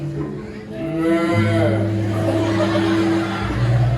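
A loud, close, drawn-out moo from a cow, long and steady with a low voiced tone, followed by a lower rumble at the end; given the talk and laughter, it may be a human voice imitating a cow.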